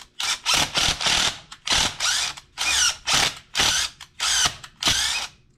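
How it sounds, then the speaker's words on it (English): A bolt being driven in bursts to cut new threads on a Briggs & Stratton 8HP generator, about ten short rasping, whirring pulses in steady rhythm, loud and close with no talk. "We just cut those new threads with that same bolt that came out of there"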